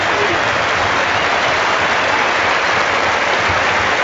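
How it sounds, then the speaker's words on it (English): A football stadium crowd at Southampton versus Barnsley gives a substituted player a sustained round of applause. The clapping is loud, continuous and even throughout, with a broad wash of crowd noise and no clear voices. "Tadanari Lee will get another great round of applause."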